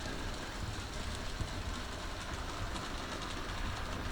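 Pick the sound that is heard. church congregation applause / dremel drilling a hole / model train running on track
model train running on track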